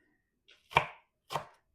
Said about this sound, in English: And then I chop them together.